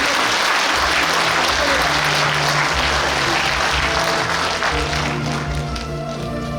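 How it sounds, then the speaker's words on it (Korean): A large audience applauds at a book launch event in Suncheon, Korea, with loud, dense clapping sustained for the whole stretch and easing only slightly near the end. "여러분 박수 보내주십시오."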